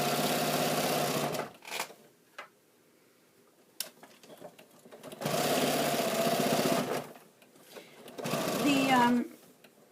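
Sewing machine fitted with a walking foot stitching fabric side panels together, running in three long steady bursts of mechanical whirring with quiet pauses between, close and loud; a voice speaks briefly over the last burst.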